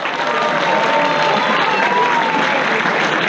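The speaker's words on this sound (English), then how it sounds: "Please give them a big round of applause." An outdoor audience at an Indian cultural festival in Munich's Englischer Garten applauds performers, with loud, steady massed clapping and some cheering throughout.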